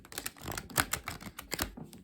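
A deck of tarot cards is shuffled up close, a quick run of crisp card clicks and riffling flutters, with no voices.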